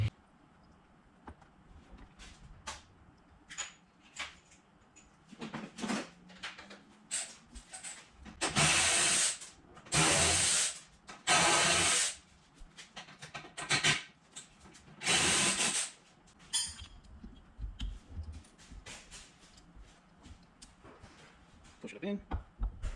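Power tool driving bolts to fasten a VE diesel fuel injection pump housing back on, several short bursts of whirring with clicks and handling noises in between, close and fairly loud.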